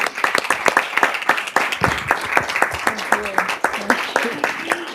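An audience claps at a school board meeting in a hall, a dense run of sharp hand claps going on throughout while a voice talks over it.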